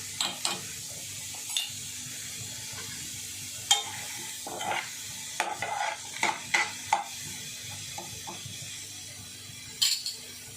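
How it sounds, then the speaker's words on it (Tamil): Onions sautéing with a little salt in a pan, with a soft sizzle under scattered scrapes and clinks of a spoon stirring against metal, close by and with no talking. "ஏன்னா உப்பு போட்டால் தான் அந்த வெங்காயம் நல்லா வதங்கும்."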